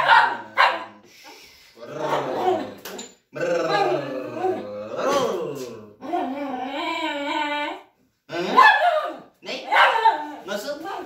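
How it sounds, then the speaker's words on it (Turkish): Close, loud dog vocalising in a varied series of barks, whines and yowling, talk-like sounds with brief pauses between bursts, with someone speaking nearby. "Konuşuyor köpek, konuşuyor."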